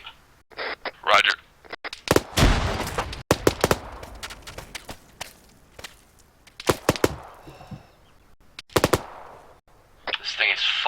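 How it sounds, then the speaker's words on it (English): A PKP machine gun fires in a tactical military shooter game: loud, rapid bursts repeat in irregular volleys with quieter gaps and scattered single cracks between them. "Watch your fire, I'm using a PKP."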